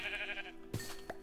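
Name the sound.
sheep bleating in the video game RLCraft (Minecraft)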